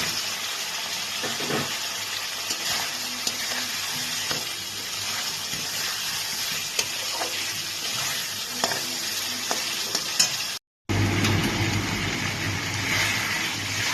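Fried potatoes stir-fried in a pan with ground whole-cumin paste for papaya-potato ghonto give a steady close sizzle with scraping stirs, cut by a brief silent gap before the frying resumes, louder.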